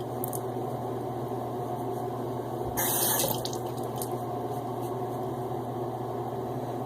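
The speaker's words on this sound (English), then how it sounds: "Some cold water." Cold water runs steadily from a bathroom tap in one continuous, even stream, with a brief louder surge near the middle and no talking.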